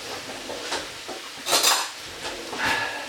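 A spoon clinks and scrapes against a pot of mushroom soup in a few quick strokes, with brief louder clatters amid a steady background hiss.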